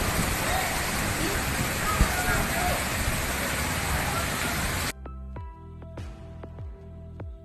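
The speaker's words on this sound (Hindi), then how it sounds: "तेज़ बारिश शुरू हो गई थी" Dense, steady heavy rain in Karachi after sunset roars for several seconds, then cuts abruptly to quieter intermittent tones and soft taps.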